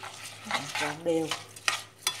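A spoon works through turmeric-tinted sticky rice mixed with coconut cream, producing close, wet stirring squelches and scrapes in short bursts with small clicks against the bowl.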